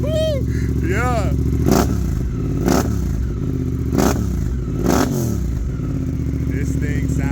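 A 2024 Suzuki GSX-8R with an aftermarket exhaust idles roughly and revs up in four sharp, loud blips close by, with brief talk at the start.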